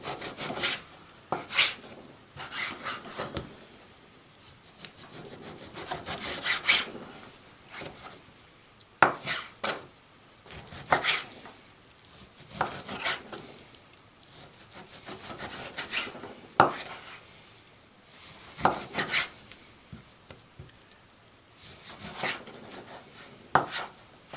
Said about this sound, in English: I'm going to rough cut this now because I'm going to do it as a chunky pie